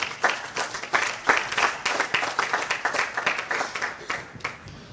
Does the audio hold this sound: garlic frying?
no